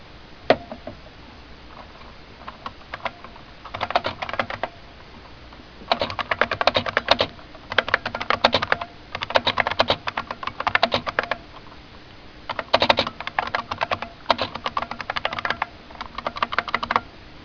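Bursts of clicky typing on a Bluetooth Model M buckling-spring keyboard, close and crisp, coming in runs of rapid keystrokes separated by short pauses, with no voices.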